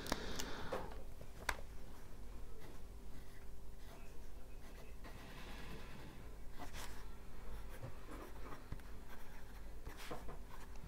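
A medium-nib Lamy Safari demonstrator fountain pen inked with KWZ Raspberry scratches steadily across paper, with soft continuous strokes, small ticks and faint breathing close by.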